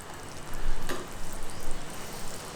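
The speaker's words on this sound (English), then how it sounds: "what we need to do now is add the coconut milk until we cover the meat" Coconut milk pours over beef in a hot pan for Thai green curry, giving a steady close sizzle and gurgle that swells and ebbs for a couple of seconds with no talk.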